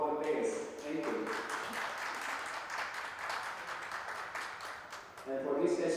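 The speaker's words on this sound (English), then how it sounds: "Spectators, please give a round of applause to all the players." Spectators at the Maldives Open 10-Ball 2024 pool tournament give the players a round of applause. The light, moderately distant clapping sits between short bursts of talk over a public address system.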